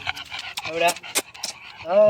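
A dog panting close by outdoors at a film city site, quick rhythmic breaths with a brief whining tone at the end.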